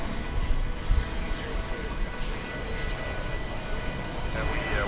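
An airliner takes off at DFW Airport, a broad steady engine roar that stays loud and even throughout, with faint radio chatter underneath.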